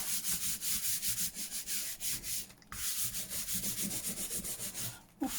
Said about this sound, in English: I'm just giving it a rub to get rid of any of the glue round the edges